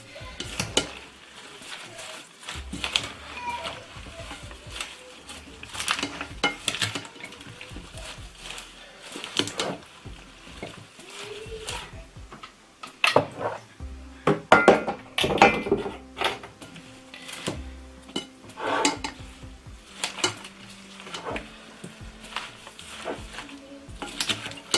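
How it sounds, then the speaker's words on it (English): Shrimp salad being mixed with mayonnaise in a bowl, a long stretch of wet, squishy stirring with scattered clicks and scrapes of a utensil against the bowl, close and continuous with no talking. "This is how I like to mix my salad."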